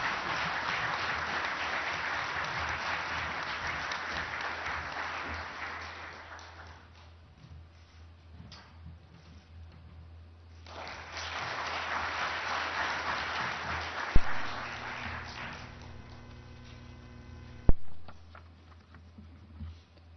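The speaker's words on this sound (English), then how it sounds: "Please welcome him with a big round of applause." Audience applause welcoming Prime Minister Narendra Modi at the Asian Leadership Conference in Seoul: a broad wash of clapping fills a hall, fades back, then swells again, with a couple of sharp knocks near the end.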